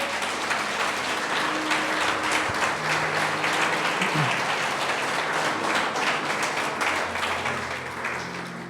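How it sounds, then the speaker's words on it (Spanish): A church congregation gives God a loud round of applause, with a dense, steady wash of clapping that holds strong before tapering slightly at the end. "Dale otro fuerte aplauso a Dios."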